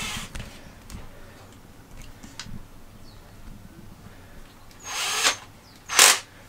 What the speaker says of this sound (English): So you're drilling holes into the roof.